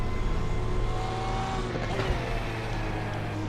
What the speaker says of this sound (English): enjoying the beautiful engine sound as well